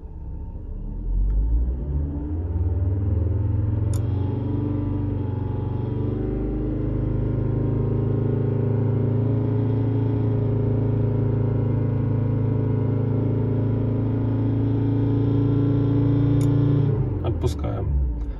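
Volvo S80 2.5T turbocharged engine held at raised revs for a sustained stretch during camshaft adaptation, a steady loud drone with a brief click near the start, then the revs drop away near the end.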